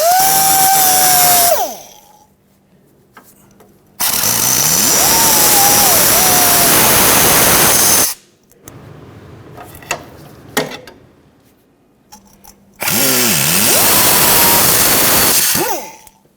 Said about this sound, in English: so we're gonna end up cutting this off using a cutting tool,